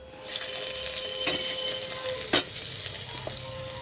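Chopped onions and dried chillies frying in hot oil, with a steady close sizzle and occasional stirring clatters and a sharp knock, no voices.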